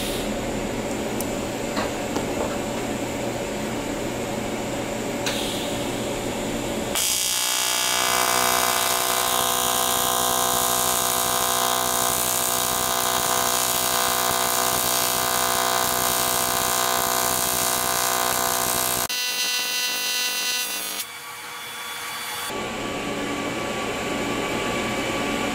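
TIG welding on 6061 aluminum, with amperage set by a TIG button, gives a loud, steady buzzing hiss up close. A low hum fills the pauses, and the arc runs in two long stretches with a short break between them.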